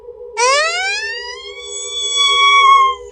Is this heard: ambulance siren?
yes